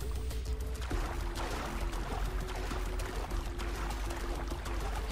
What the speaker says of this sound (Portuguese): o barco tá dentro da água